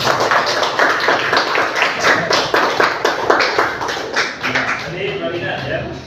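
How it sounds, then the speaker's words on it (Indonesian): A classroom claps together for all the groups after presentations, a dense burst of hand claps that fades toward the end, with faint voices mixed in near the close. "tepuk tangan dulu untuk semua"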